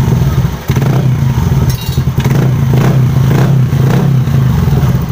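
A Yamaha Aerox motor scooter, previously stalled by a crankshaft position sensor fault that has now been replaced, idles loud and close with a steady low rumble and a few light blips of the throttle.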